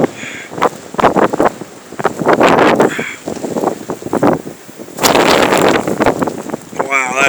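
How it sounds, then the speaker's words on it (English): Blizzard wind buffeting the microphone in loud, rough bursts that surge and drop repeatedly, with a person's voice heard among the gusts. "This is right facing the wind."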